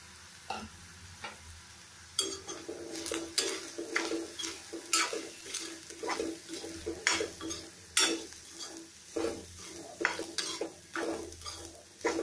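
Onions and grated coconut frying in a pan for a brinjal gravy, stirred with a spoon: repeated scraping strokes against the metal in an uneven rhythm over a soft, continuous sizzle.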